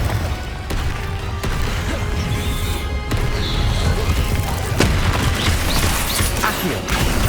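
Confringo fire spell blasts in Hogwarts Legacy, a dense crackling barrage of booms and crashes with sharp bursts scattered through, loud and continuous over busy game noise.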